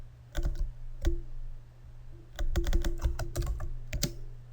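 Typing on a computer keyboard, with an isolated keystroke or two, a pause, and then a burst of quick clicks and taps close to the microphone over a low hum.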